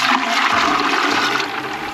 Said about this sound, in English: We're going to pour the water in there.